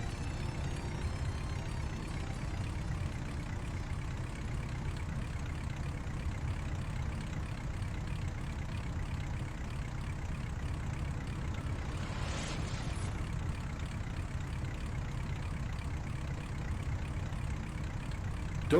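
A Satsuma car engine idling steadily in the survival game My Winter Car, a continuous low rumble heard alone at moderate level throughout, with a brief faint rustle midway.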